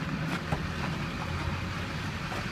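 A 2004 Chevrolet Silverado dually pickup with a Duramax diesel engine idles quietly as an even, low, steady hum with no distinct knocks or revs and no voices.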